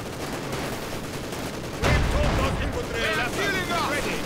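Sustained gunfire and explosions from the real-time strategy game Company of Heroes 2, in a blizzard battle around a Panzer fort, a dense continuous rattle with a heavier burst midway, loud throughout.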